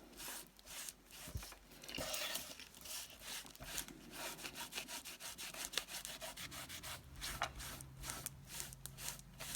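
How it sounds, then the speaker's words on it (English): A dry fiber cloth is wiped across an embossed slimline card, giving steady close rubbing and brushing strokes in a quiet room with no talk. "I'm taking this dry fiber cloth and I'm just wiping it off the embossing portion."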